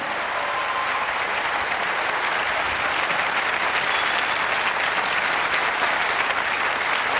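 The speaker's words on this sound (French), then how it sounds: "Applaudissements de la salle quand même pour le Brésil." Applause fills a hall during a televised French-language quiz final, a loud, dense and continuous clapping from the audience that holds evenly from start to finish.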